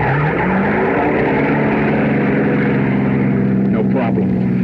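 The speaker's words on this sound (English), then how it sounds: "I shoved that getaway car into gear and took off." A getaway car shoved into gear and pulling away, its engine revving up with a rising, climbing pitch before settling into a steady drive, loud and close for several seconds.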